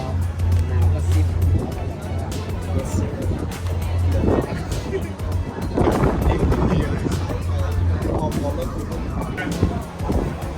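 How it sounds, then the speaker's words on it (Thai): Queen Ashinoko pirate-style sightseeing ship cruising on Lake Ashi in Hakone, a steady low engine drone with wind and water wash, while someone talks over it. "นี่นะครับ ชื่อของเรือนะครับควีนอาชิโนโกะ"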